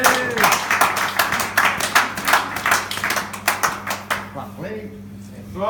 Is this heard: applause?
yes